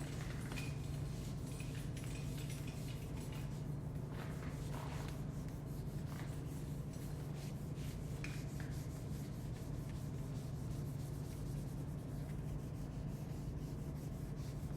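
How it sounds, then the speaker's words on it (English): An eraser scrubs back and forth across a board, producing quiet, continuous rubbing and scraping strokes in a soft, uneven rhythm throughout. "I'm gonna literally erase everything right now."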